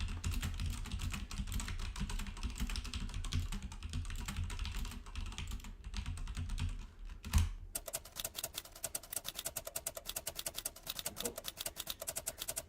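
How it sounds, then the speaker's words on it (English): Typing on a computer keyboard, with dense rapid clicks for several seconds, a brief pause with a thump, then steady brisk keystrokes resuming, close and clear. "You'll see how good or bad my typing is as I do this."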